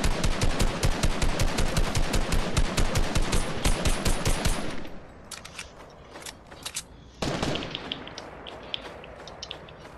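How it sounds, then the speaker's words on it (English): Rapid automatic gunfire in Fortnite, a fast close burst of repeated shots for about five seconds, then quieter scattered distant shots and clicks, with another sharp shot and trailing pops afterward. "Somebody else shooting at us?"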